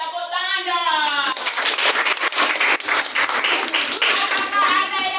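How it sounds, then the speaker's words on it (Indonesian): A teacher speaks briefly, then a classroom of children claps together for several seconds, a close, lively patter of many small hands with some scattered young voices mixed in. "Tepuk tangan dong."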